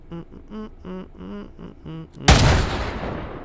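A single loud AR-50a1 rifle shot in the VR shooter H3VR, a sharp close blast with a long rolling decay, preceded by a short run of rhythmic, pitched mechanical tones.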